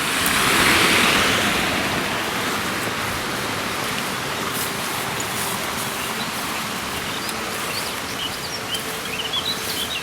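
Steady rushing water from a river in the Bieszczady mountains near an abandoned village fills the scene, a loud continuous broadband wash with faint birds above it.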